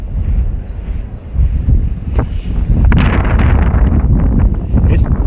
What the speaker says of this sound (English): Sort of distracted with the wind today, trying to not fall in or get blown over on the rocks.